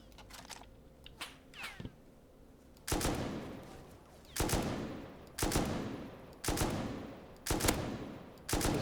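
A long-range gun firing in the survival game Rust, a few light pops early, then five heavy, evenly spaced shots with long booming tails, close and loud.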